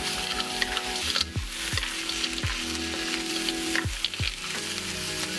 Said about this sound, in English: we're adding a little extra oil because we're about to add the shrimp